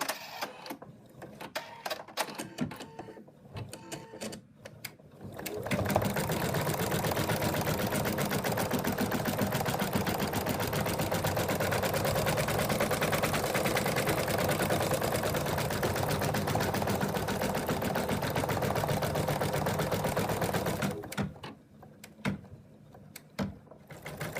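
Embroidery machine stitching a satin outline around a cat appliqué, a loud, steady rapid needle chatter running continuously for about fifteen seconds, framed by quieter handling noises before and after.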